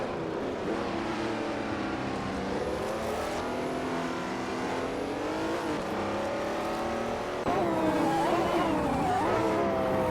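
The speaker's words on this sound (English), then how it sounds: "We are currently watching a racing simulator where our driven cars are competing against each other." Race cars in a Group C racing simulator game, engines droning and shifting pitch continuously as they lap the track, with a louder surge of engine noise near the end and no talk.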